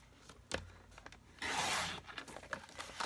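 A paper trimmer slicing through a sheet of cardstock, with a sharp click as the blade engages, then a short rasping cut followed by lighter shuffling of paper, close and fairly quiet.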